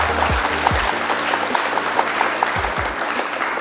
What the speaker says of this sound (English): A round of applause for the nominees.